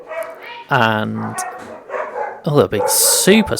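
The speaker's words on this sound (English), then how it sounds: "Apologies if you hear my dogs in the background." Pet dogs bark and yip in a home, heard intermittently under a person speaking close by.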